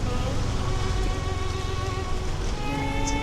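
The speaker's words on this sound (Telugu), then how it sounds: "లైట్గా డ్రిజ్లింగ్ స్టార్ట్ అయిపోయింది ఆల్రెడీ." Light drizzle near Vagator beach in Goa makes a soft, steady hiss mixed with outdoor ambience and faint tonal hums, continuous and fairly close, with no talking.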